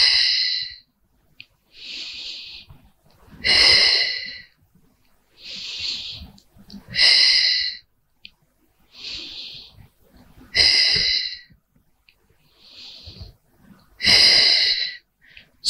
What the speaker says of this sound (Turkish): Rahat olduğum yerde nefes alıyorum. Kuvvet uyguladığım yerde nefes veriyorum.